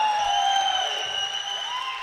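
Crowd at an indoor volleyball match between London Aces and Tamworth Spartons roars with sustained cheering and applause after a won point, loud and steady throughout, with whistle-like tones riding over the broad crowd noise.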